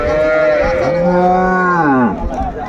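An improved-breed dairy cow at the Raniganj cattle market in Dinajpur gives one long, loud moo close by. The pitch holds, then drops sharply at the end.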